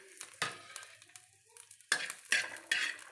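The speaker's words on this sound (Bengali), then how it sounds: "তেল আছে, রিমাইনিং যে অয়েল আছে তার মধ্যে বাদাম ভেজে নিচ্ছে।" Peanuts are stirred and fried in leftover cooking oil in a pan. Scattered scrapes and clatters of a spoon against the pan stand out over a soft, faint sizzle.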